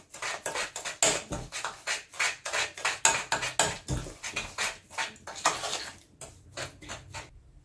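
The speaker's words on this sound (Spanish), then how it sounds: "mezclarla con el azúcar" Softened butter being mixed with sugar in a bowl for eggless Moroccan nut and chocolate cookies, close and busy, with a steady run of scraping and clinking strokes of a utensil against the bowl, no talking.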